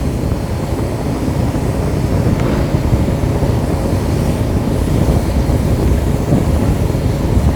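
Steady, continuous hiss and roar of a spray gun laying white nitrocellulose lacquer onto a Telecaster guitar body, loud and unbroken for the whole stretch with no talking.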